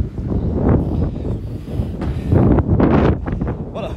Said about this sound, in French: je m'excuse vraiment pour le vent, les amis